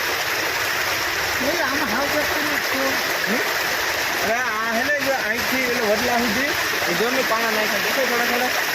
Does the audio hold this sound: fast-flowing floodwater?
yes